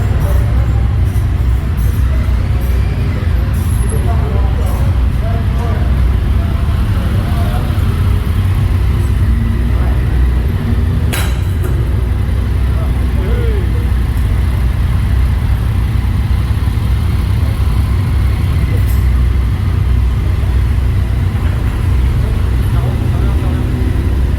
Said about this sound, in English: Loading my bike up. Drive down as a load of bikes together.